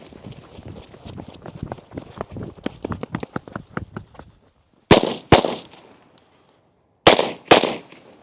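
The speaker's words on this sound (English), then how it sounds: "fire 2 rounds of the torso standing, 2 rounds of the torso kneeling" Rifle shots during a SWAT firearms qualification course of fire: two pairs of sharp, loud reports, each pair fired in quick succession with a pause between pairs, following a stretch of rapid clattering.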